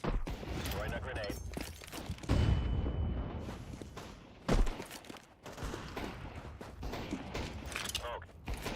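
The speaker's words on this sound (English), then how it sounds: "Throwing a grenade." A grenade thrown in Counter-Strike 2, with a heavy blast around the middle among scattered shots, footsteps and mechanical clicks, while a voice talks over much of it.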